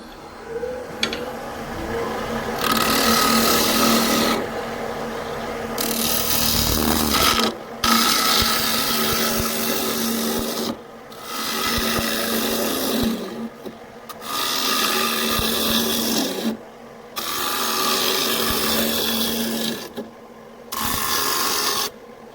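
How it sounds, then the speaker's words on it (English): A gouge cuts a thin cherry wood bowl spinning on a wood lathe, giving loud, rough scraping bursts that start and stop in repeated passes over a steady motor hum. "I can just feel the outside is a bit wobbly since I turn it around on the lathe."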